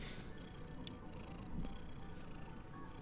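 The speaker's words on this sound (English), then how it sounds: "I don't know if you guys can hear this purring" A cat purring steadily as she is petted, a soft continuous low rumble close by with no voices over it.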